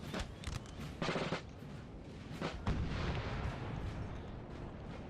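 Cannon fire in a Napoleon Total War battle, with 4-pounder and 9-pounder guns trading counter-battery shots. Several muffled booms thud at irregular intervals over a continuous low rumble of battle.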